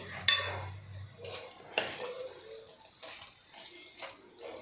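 Semolina sheera being stirred with ghee in a pan, a spoon scraping and clinking against the metal in a few separate strokes, close and moderately loud.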